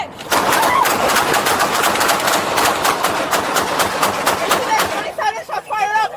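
During a police traffic stop on a road, a rapid volley of gunshots rings out, dozens of sharp cracks in quick succession over about five seconds. The shots are loud and close, followed by a brief, uneven pause with raised voices.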